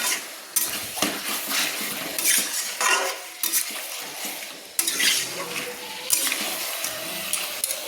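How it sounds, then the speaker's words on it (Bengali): Chicken with spices for chicken do pyaza being stirred in a pan with a spatula, giving a busy mix of scraping, metallic clatter and a soft sizzle throughout, with sharp knocks now and then. "5 মিনিট চাপা দিয়ে একটু কষিয়ে নিচ্ছি"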